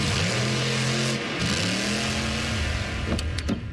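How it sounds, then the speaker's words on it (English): A monster truck engine revs loudly and steadily, its rising and falling drone accompanied by a few short higher whines near the end, with no talking. "You can even stream it at a monster truck rally."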